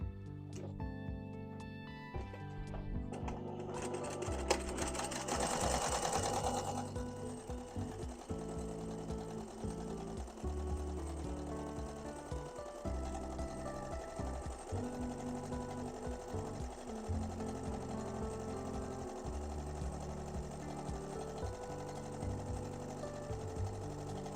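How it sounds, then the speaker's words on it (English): A sewing machine runs a 1/4 inch seam around a fabric drawstring travel jewelry pouch, a fast, steady mechanical whir with rhythmic needle clatter sustained close up for the whole stretch. "we're going to go back and we're going to sew another seam all the way around at a 1/4 inch seam allowance"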